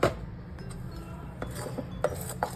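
Spoon beating vada pav batter in a bowl, a steady scraping churn with sharp clinks of metal against the bowl, close up and alone.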